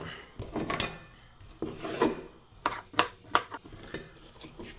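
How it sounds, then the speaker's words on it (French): A knife cuts an onion on a board while a burrito is made, giving a quiet run of irregular tapping chops and scraping knocks, near and alone. "On va commencer par couper l'oignon."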